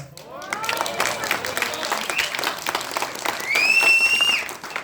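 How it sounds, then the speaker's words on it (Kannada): A theatre audience claps for a film's climax, a crowd's scattered applause rising and falling, with people talking loudly over and through it. "ಈ ಚಿತ್ರದ ಕ್ಲೈಮ್ಯಾಕ್ಸ್ ಇಷ್ಟ ಆಯಿತು ಅಂತ ಚಪ್ಪಾಳೆ ತಟ್ಟಿದ್ದಾರೆ ಪ್ರೇಕ್ಷಕರೇ"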